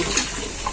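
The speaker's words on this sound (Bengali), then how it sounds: "জলা দিয়ে দিই আমি।" Water poured onto spice paste being ground for a Bangladeshi village fish curry, a short steady splashing trickle heard close up and alone.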